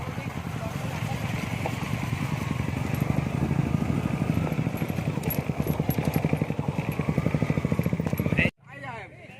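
Motorcycles from a biker group grind off-road up a rough hill track toward Don hill station, a close, throbbing engine pulse that holds steady before stopping abruptly, with people talking over it.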